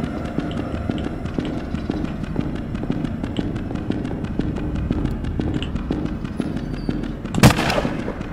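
Shotgun fire in the horror game Carnival Massacre, with one loud blast near the end that stands out over a steady rattle of clicks and footsteps.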